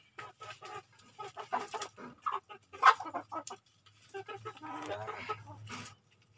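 Free-range chickens, one rooster and five hens, clucking in a garden, several close cackles and clucks in quick bursts, with a person speaking now and then over the birds.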